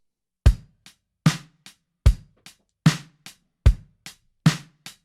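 A simple programmed MIDI drum kit plays soloed, booming kick hits alternating with lighter snare strikes in a steady, even rhythm.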